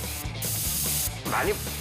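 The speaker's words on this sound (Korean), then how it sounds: "2차 염색은 스프레이 건을 사용해 고르게 분사하는데요." A spray gun sprays a second coat of dye onto a worn twenty-year-old leather sofa, giving a loud continuous airy hiss with short breaks and a low compressor hum beneath.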